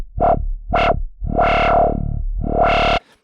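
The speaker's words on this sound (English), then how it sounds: "So this is a scream filter low pass" Synth notes played through Serum's scream low-pass filter, four resonant, buzzy tones, two short stabs then two longer held notes, the peaked filter giving each a nasal, vowel-like sweep, loud and dry with no speech.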